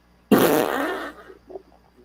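A loud, close fart rumbles out for nearly a second in a casual podcast setting, then trails off into a few faint sputtering bursts.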